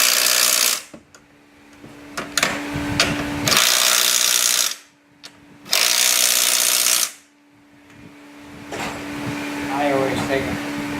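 On a 2011 Ford Fusion, a power tool whirs in two loud, close bursts of several seconds each as it tightens the top strut bolts, with quieter shop noise between and after.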